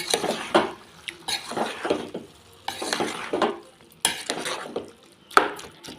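Spring onion and tomato curry stirred in a pan, repeated bursts of scraping and clinking stirs with gentle sizzling between them, close and clear with no talk.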